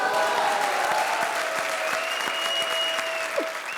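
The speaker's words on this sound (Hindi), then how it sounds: "ठोको ताली" Studio audience at a Hindi comedy show New Year party breaks into steady, loud clapping and applause, sustained throughout with a faint crowd murmur and a few whistle-like tones beneath.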